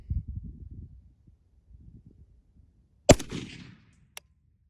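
A single sharp, loud shot from a Zastava PAP M77-PS rifle on an outdoor range, with a short echo rolling off behind it. Low rumbling and handling noises come before the shot, and a faint click follows a second later.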